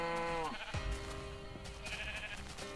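Sheep bleat in a Minecraft farm scene: one long wavering bleat is followed by a few shorter cries. Blocky game sound effects play at a soft level over steady background music, and no one speaks.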